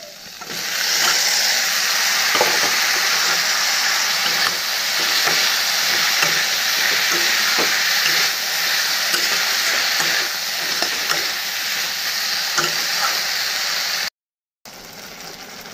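Taro stolons (loti) stir-fried in a spiced masala pan, a loud steady sizzle with repeated scraping and clacking stirring strokes, close up and continuous before a brief break at the end.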